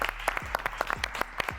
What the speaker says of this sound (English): Can we clap? I want to clap.